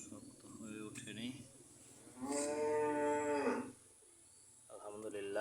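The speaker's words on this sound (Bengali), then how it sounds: "গাভীটা চিল্লাচিল্লি করতেছে আর বাচ্চার জন্য।" Friesian cow on a farm lowing for her newborn bull calf: a few short calls, then one long, strong moo nearby, with quiet background hum and a little talk around it.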